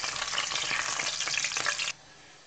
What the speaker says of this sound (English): Now we just want to saute slightly the whole spices